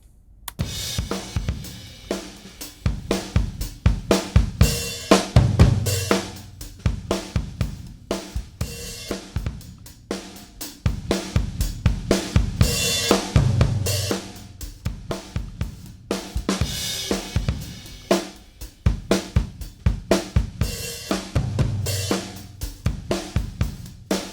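Heavily compressed drum kit playing a steady groove, punchy kicks and snares with sustained cymbal wash, loud and dense with no talking.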